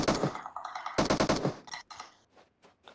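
Rapid bursts of automatic gunfire in the mobile game PUBG Mobile, two dense volleys followed by scattered fainter shots that trail off.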